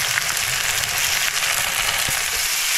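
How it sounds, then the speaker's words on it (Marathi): Onion frying in hot oil with whole spices for a spicy liver masala, a steady loud sizzle and crackle close by with occasional stirring clicks. "की आता आपल्याला ह्याच्यात कांदा टाकायचा आहे."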